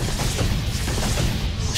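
A short, muffled boom from an explosion in the video game Ori and the Blind Forest, a heavy low rumble lasting under two seconds with a crackling tail.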